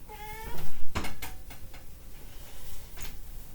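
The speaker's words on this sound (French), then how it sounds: "J'ai mon chat qui est impatient de sortir." A female house cat, impatient to go outside, gives one short rising meow at close range, followed by a few sharp knocks and taps against a quiet background.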